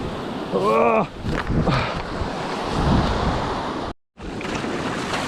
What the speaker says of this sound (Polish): za duże fale, żeby wejść do wody